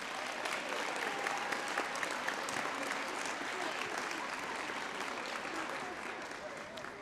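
An audience at a school district recognition night claps in a sustained, even round of applause lasting several seconds, fairly distant and moderately soft.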